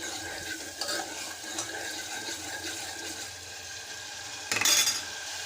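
A spoon stirs onion-ginger-garlic paste with turmeric and salt in a pan for an egg curry, with soft wet scraping over a steady frying hiss and a brief louder metallic clatter near the end.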